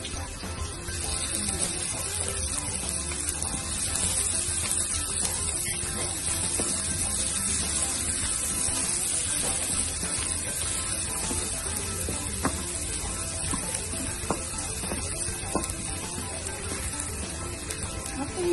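Garlic frying in cooking oil for a simple vegetable dish with corn tuna, a steady broadband sizzle running close and continuous throughout, with a few faint clicks and no talk.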